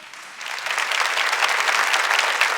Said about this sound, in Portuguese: Vamos aplaudir, é verdade.